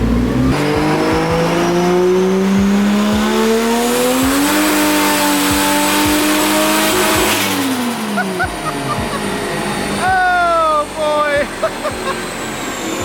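Turbocharged Toyota Supra fitted with an eBay turbo, running high boost, revs hard through a long pull with rising and falling engine pitch, loud and close, with tire squeal and people talking over it.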